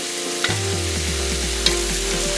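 Food hits a hot pan and sizzles loudly and steadily, with a low hum underneath and a couple of clanks from stirring.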